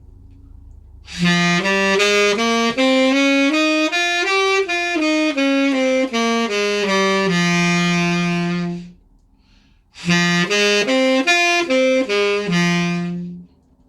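A natural minor scale is played step by step, rising and then falling in a bright, buzzy tone, followed after a brief pause by a shorter run.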